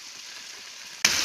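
Lentils and chopped tomato frying in oil, a soft sizzle that suddenly jumps to a loud hiss and crackle as tomato sauce is poured into the pan.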